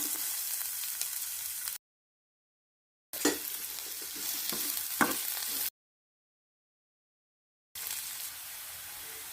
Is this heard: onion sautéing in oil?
yes